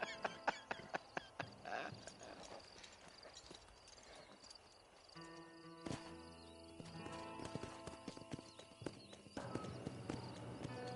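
Hooves clip-clop at a walk in Red Dead Redemption, sharp irregular strikes over soft game ambience and music, moderately faint, with occasional light talking.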